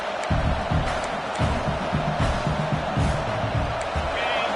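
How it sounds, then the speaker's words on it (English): Stadium crowd noise from a PS5 American football video game, a dense, steady roar of fans with rhythmic swells, close and moderately loud throughout. "This crowd bringing the energy and noise early."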